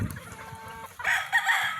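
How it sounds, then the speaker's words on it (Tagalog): On a game farm, hens cluck softly at first, then a rooster breaks into a loud, close crow over the short stretch, with no talking heard. "Ganda ng mga inahin."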